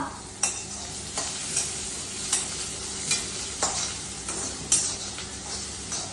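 A spatula repeatedly scrapes and stirs food frying in a pan, with a steady sizzle underneath and sharp periodic scrapes roughly every half second to second, close and fairly loud with no talking.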